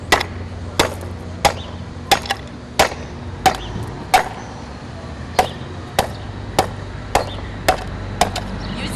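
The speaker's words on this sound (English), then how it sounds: "Then I'm going to take the hammer." A hammer strikes a craft piece to make dents, about a dozen sharp, evenly spaced knocks in a steady rhythm, close and clear, with no talk.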